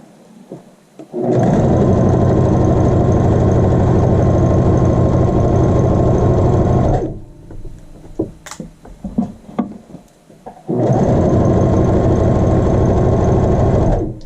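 A sewing machine runs a back stitch on a child's shirt, sewing the facing to the center front: two long steady bursts of motor whir, loud and close, separated by a few seconds of small handling clicks and rustles.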